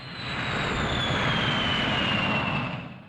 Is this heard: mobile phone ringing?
no